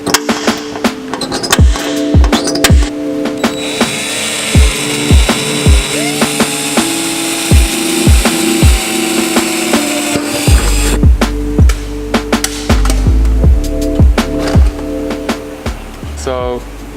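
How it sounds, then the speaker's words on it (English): Pneumatic center punch and power drill working on the metal body of a Toyota Tacoma for a snorkel install, a string of sharp percussive taps and clicks followed by steady whirring drill runs, close and loud with a low mechanical hum throughout. "we're using a pneumatic center punch to make sure that all the holes that we're about to drill are perfectly centered"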